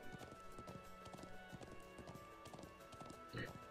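Horse hooves clip-clopping at a steady trot in the video game Trails of Cold Steel 2, a brisk rhythmic patter under faint game sounds.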